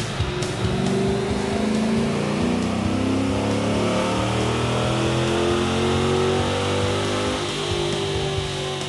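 A car engine on a dynamometer runs loud and sustained throughout, with a steady roar and rising and falling engine tones as it revs, and no voices.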